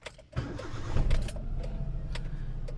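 A Hyundai Eon engine cranks and catches, then settles into a steady idle hum after idle air control valve cleaning, heard up close with no one talking.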